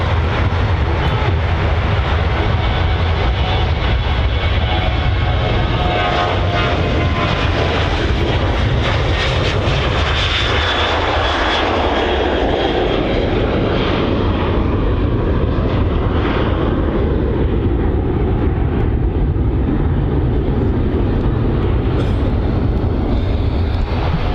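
An airliner at Manchester Airport passes close and loud, a sustained jet engine roar with wind buffeting that swells and shifts in pitch across the whole stretch, with no voices.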